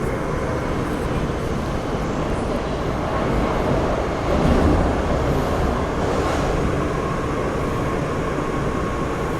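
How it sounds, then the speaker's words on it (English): Hong Kong MTR generation 1 M-train running, a loud continuous rumble and roar of the train with a swell near the middle, no talking. "Here's a generation 1 M train."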